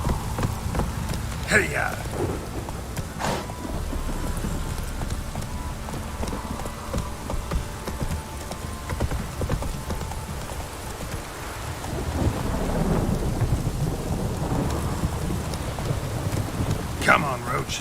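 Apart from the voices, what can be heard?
heavy rain and thunder in The Witcher 3 video game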